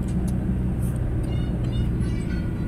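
Inside a van driving on a long trip from Davao City toward Malalag, heard from the front seat beside the driver: a steady, loud low engine and road rumble with constant wind noise and no breaks.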